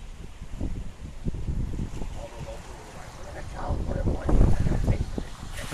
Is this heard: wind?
yes